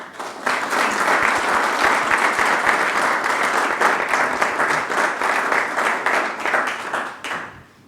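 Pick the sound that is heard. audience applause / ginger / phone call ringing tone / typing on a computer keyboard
audience applause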